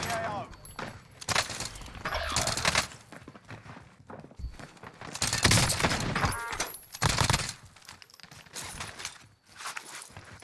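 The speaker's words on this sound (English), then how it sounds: "I'm under fire" Rapid gunfire in a shooter match on the Rebirth map, arriving in repeated loud bursts and scattered shots under a stream of excited talk.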